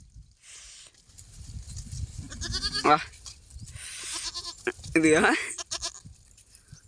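Sheep bleat loudly and nearby in a farm setting, with several wavering calls rising over the course of the clip amid rustling and movement, while people talk in between.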